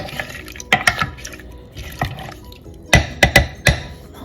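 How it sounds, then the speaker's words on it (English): Pickles are stirred in their brine with wet, sloshing splashes and drips of liquid, coming in irregular bursts up close and ending in several louder swirls. "We're just gonna give these a good stir once a day."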